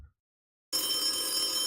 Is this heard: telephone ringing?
yes